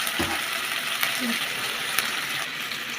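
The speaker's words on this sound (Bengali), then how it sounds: "এগুলো একটু কষাই নিতে হবে তেজপাতা দিয়ে দিলেন" Goat head pieces sautéing with bay leaf and garlic paste in a pan, making a constant close sizzle with a few light scrapes and taps of the stirring spoon.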